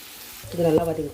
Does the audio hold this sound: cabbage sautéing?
yes